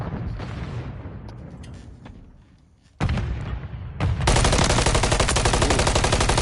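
Gunfire in an esports shooter match, with rapid crackling shots building up, then an abrupt loud stretch of dense continuous firing that stays steady to the end.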